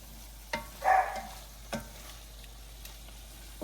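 Shrimp fry in a pan, a soft continuous sizzle broken by a few clicks and scrapes of stirring, with one louder hissing flare near the start.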